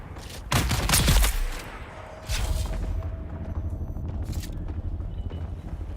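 Gunfire in the video game Dune: Awakening, with a loud close burst of shots at the start, then a second volley and a fainter rumbling tail.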